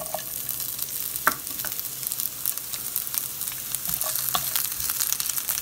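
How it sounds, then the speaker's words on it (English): Onions sizzle steadily in hot oil over medium heat, a close crackling hiss with occasional sharp pops and faint scraping of a stirring utensil. "we're going to throw those onions in"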